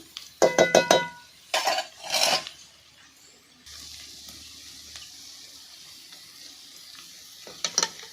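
Soft, continuous sizzling and crackle of milk cream frying into ghee in a pan, broken by a few clattering knocks of a utensil against the vessel.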